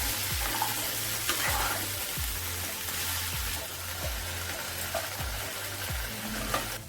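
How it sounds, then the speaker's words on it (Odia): Diced potato, cabbage and beans tossed into hot oil with cumin seeds for a vegetable dish, frying with a continuous sizzle and repeated low scraping stirs at a moderate distance, no talking. "ତେଲରେ 1 ସ୍ପୁନ୍ ଜିରା ଫୁଟାଇ କାଟି ରଖିଥିବା ଆଳୁ, କୋବି, ବିନ୍ସକୁ ପକାଇ ନେଉଛି।"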